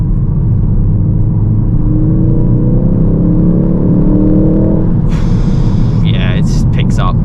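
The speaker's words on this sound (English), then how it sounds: "that was full throttle as well, so that was no traction lost at all" A 2023 facelift Ford Focus ST Estate automatic pulls hard at full throttle on the road, its engine note steadily rising in a continuous loud drone, with people talking over it and a brief higher whine near the end.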